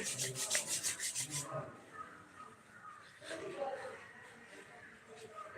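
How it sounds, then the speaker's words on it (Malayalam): Palms are rubbed briskly together to warm them before a face massage, a rapid scratchy swishing for about a second and a half, close, followed by quieter room sound and soft speech. "ഉള്ളംകൈ നന്നായിട്ട് കൂട്ടിത്തിരുമ്പോൾ ആ ഒരു ചൂട്"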